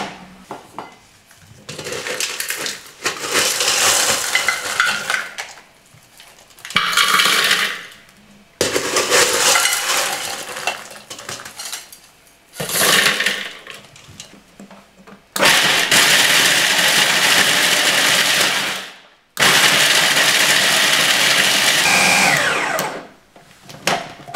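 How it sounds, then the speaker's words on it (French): Blender grinding cooled caramelized nuts into praliné, running in several loud bursts of a few seconds each, separated by short pauses, with no talk. "on va passer ça au mixeur."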